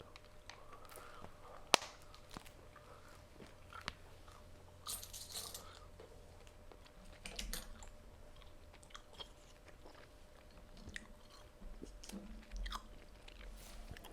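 Tropical-flavored gum chewed close to the ear, quiet wet smacking and soft crunching in an irregular rhythm over a faint background hiss, with no talking.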